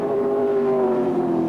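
A touring race car at the 1996 Bathurst 1000 drones past loud and steady, its engine note holding a strong pitch with a slight downward slide as it goes by.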